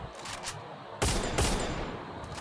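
Gunfire from a mobile shooter video game during headshot attempts: two loud, sharp bursts close together after a quieter stretch, with lighter shots trailing off behind them.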